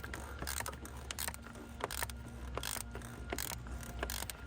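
A socket ratchet clicks in quick, uneven bursts while tightening a part during an oil change on a 2016 Ford F-150 2.7L, quiet and close with no talk.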